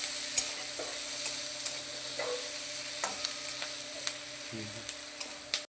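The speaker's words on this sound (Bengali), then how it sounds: "পেঁয়াজটাকে ভালো করে লাল করে ভেজে নেব।" Onions fry in a hot kadai for a fish curry, a steady sizzle with periodic scrapes and knocks of a spatula stirring them, close and alone.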